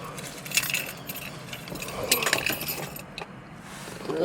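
Ford Mustang key fob and keys handled and jangling at a gas station at night, with bursts of metallic clinking over a low background hum.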